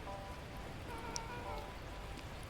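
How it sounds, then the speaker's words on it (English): Torrential rain in the video game Beacon Pines, a faint steady hiss of downpour with scattered drop ticks, soft and unbroken throughout. "At that moment, the heavens opened up, unleashing torrential rain."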